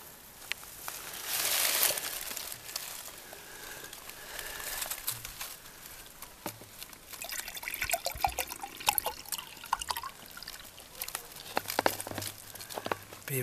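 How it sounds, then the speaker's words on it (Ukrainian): Fresh maple sap drips and trickles into a container in spring, faint scattered droplet taps and a soft watery rush, quiet and close with no talking. "Ось як капельки капають."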